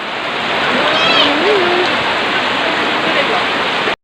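Steady rain pours down continuously, a dense hiss close by with a faint tonal chirp briefly audible in the middle.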